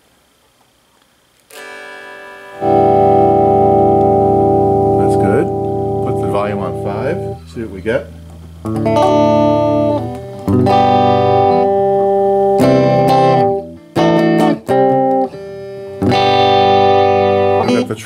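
An electric guitar rings out through a Fender Acoustasonic 30 amp under repair, treble, mid and bass on 5, in loud sustained chords and choppy strums, with a brief spoken remark at the start.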